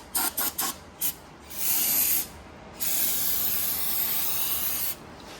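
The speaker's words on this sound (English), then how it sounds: "I'm gonna clean this out right now with a little bit of brake clean and clean around." Brake cleaner sprays onto the valve cover area of a 2008 Ford F-150 5.4 3V Triton engine: several quick short bursts, then two longer, louder hissing sprays, close to the microphone.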